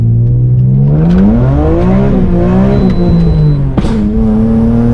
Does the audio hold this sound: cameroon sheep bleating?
no